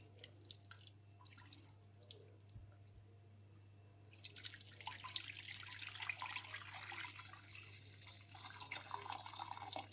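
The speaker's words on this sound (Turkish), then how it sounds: "Şimdi süzme işlemini yapacağız." Homemade chicken stock strained slowly in a kitchen, liquid dripping and trickling faintly over a steady low hum, the flow growing a little fuller partway through.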